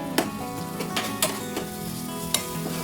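Capsicum sautéing in a pan for a vegetable biryani, a steady close sizzle with a few sharp scraping stirs of the spatula against the metal.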